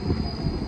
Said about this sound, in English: There's actually my tram coming right now.